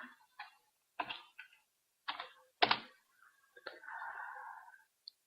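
Keys pressed on a computer keyboard while entering MATLAB commands: a few separate, crisp clicks and thunks, spaced about a second apart, close and fairly quiet, over near silence.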